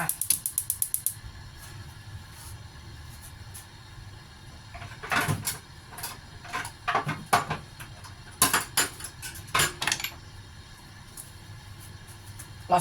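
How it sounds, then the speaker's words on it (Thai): Wide rice noodles being stir-fried in a pan for chicken rad na, heard as clattering, scraping utensil strokes in irregular bursts, with quieter pauses between them. "เดี๋ยวจะทำการผัดก่อนนะคะ ผัดเส้นใหญ่ก่อนจ้า"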